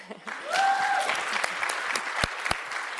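Audience applause during an investment talk on residential nursing care homes, a short steady patter of clapping from a room, moderately loud with a few sharper claps standing out.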